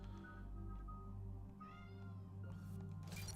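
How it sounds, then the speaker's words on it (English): A cat meows near a microphone during a game stream of Mass Effect 3: a few drawn-out, wavering meows over a steady low hum of game sound, fairly faint overall, with no talk. "Are you going to start meowing?"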